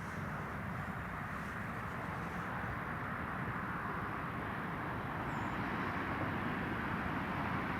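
A Jet2 airliner departs Newcastle International Airport for Antalya, its engines a steady, distant broadband roar that holds constant with no talk over it.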